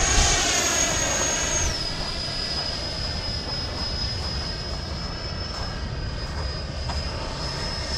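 A large Viggen model jet aircraft flies full 3D aerobatics, its turbine whine loud and steady, with a high tone that slides down early on before holding under a constant roar.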